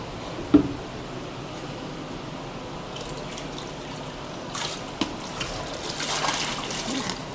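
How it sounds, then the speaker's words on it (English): Running water rinses out a nutrient mixing cup, with a sharp knock at the start and then splashing and trickling that grows louder toward the end. "Give your mixing cup a good washout."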